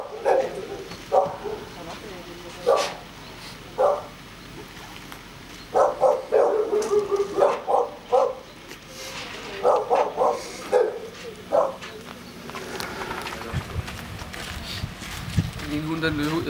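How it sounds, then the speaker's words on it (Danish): A dog barks in repeated bursts, clusters of loud close barks separated by short pauses, with people speaking between the volleys and some rustling and movement toward the end. "En hund, der løber ud."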